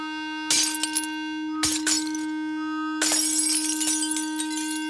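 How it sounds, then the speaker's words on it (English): A delicate wine glass shatters under strong sound-wave vibration, a loud sustained pure tone droning throughout while bursts of crashing, tinkling glass break in three separate waves. "The vibrations were so strong that the glass literally shook itself to pieces."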